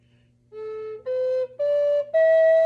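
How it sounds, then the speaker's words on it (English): A solo flute plays a few rising sustained notes close up, the tones briefly broken and wavering as a finger lifts and drops over a hole to flutter the note. "You can add some embellishments just by possibly fluttering a note."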